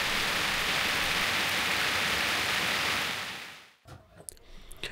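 Heavy rain drums on a tent, a dense, loud, even hiss that cuts off abruptly near the end, leaving a few faint scattered drips and rustles.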